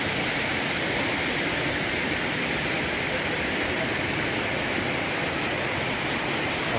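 Muak Lek waterfall spilling over rocky ledges into a flowing stream on the Saraburi–Nakhon Ratchasima border makes a steady, dense rushing roar that stays even and unbroken throughout.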